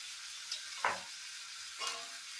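Salt water poured into a pan of frying tomato curry with garlic gives two short, faint sizzling bursts over a quiet background hiss, with no talking.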